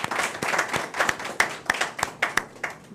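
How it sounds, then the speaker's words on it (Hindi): Scattered, uneven clapping from a kavi sammelan audience welcoming a poet, individual sharp claps standing out in loose rhythm rather than a dense roar, fairly close and moderately loud with no talk. "जोरदार तालियों से अभिनंदन करें।"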